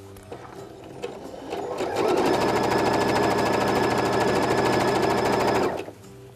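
A sewing machine stitching the seam of a fabric bag, with a rapid, even mechanical rattle that starts softly, runs loud and steady for several seconds, then stops abruptly.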